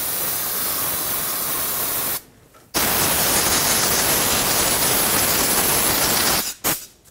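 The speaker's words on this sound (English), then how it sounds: "Rinse it off with a brake parts cleaner." Brake parts cleaner sprays in two long, loud, close hissing bursts onto the rear brake hub of a 2011-2018 Volvo S60. A short pause separates them, and a brief final spurt follows.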